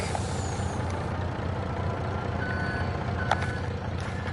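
A truck idles close by with a low engine rumble, with faint intermittent beeps and a short air-brake hiss, continuous and steady with no talk.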